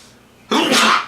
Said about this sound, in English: I was talking so fast it made me sneeze.